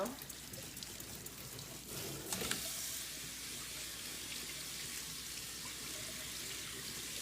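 Running tap water pours steadily over vegetables and fruit being rinsed in a kitchen sink, a continuous splashing hiss with a brief louder gush partway through, while people talk quietly in the background.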